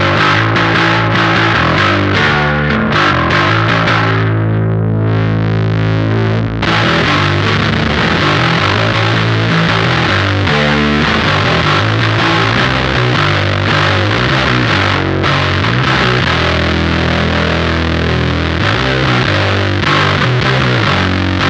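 An electric bass played through an O.C.E. Lineman pedal with the drive turned up gives a loud, continuous, heavily distorted tone, with notes and chords chugging steadily throughout and no talking.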